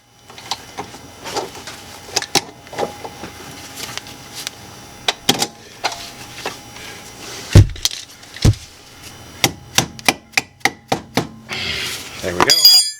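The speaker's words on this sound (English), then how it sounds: "Slide that retaining clip back in." Metal retaining clip on a brake line being slid and tapped back into a strut assembly on an Isuzu with camber plates fitted, a run of sharp close clicks and knocks, irregular at first then in quick succession.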